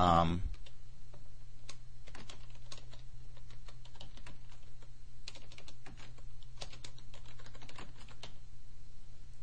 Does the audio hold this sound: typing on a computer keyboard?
yes